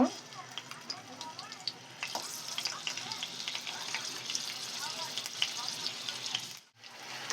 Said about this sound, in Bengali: পেঁয়াজ ভাজিটা তুলে আলু ভাজিগুলো ভেজে নিব আলুগুলো এইভাবে ভেজে নিব